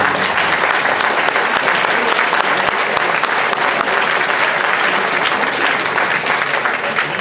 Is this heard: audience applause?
yes